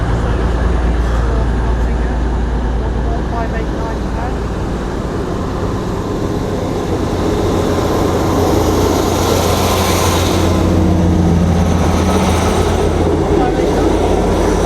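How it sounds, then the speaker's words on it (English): Northern diesel train, unit 158910, pulling out of Chesterfield station on a Leeds to Nottingham service, a loud low engine drone with rumble building toward the end, heard close on the platform amid station noise. "Also getting ready to depart now will be your 1222 Northern train service from Leeds to Nottingham."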